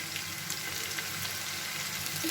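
Bitter gourd and potato pieces fry in hot oil in a pan, a constant close sizzle with faint crackles and no voices.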